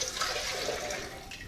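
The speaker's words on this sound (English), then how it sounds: "I'm going to pour in the water" Water pours from a container into a pot on a Firemaple camp stove, a close, loud, rushing gush that holds steady and then eases off slightly at the end.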